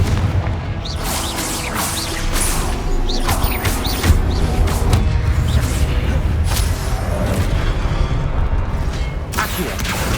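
Confringo blasting spell explosions in the game Hogwarts Legacy, a dense run of booming impacts, crackles and whooshes layered over continuous combat noise and music.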